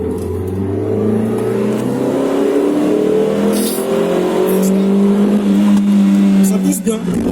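A Renault Twingo 2 RS accelerates hard down a clear straight. The engine note climbs steadily with rising revs through a gear change, loud and close from inside the cabin.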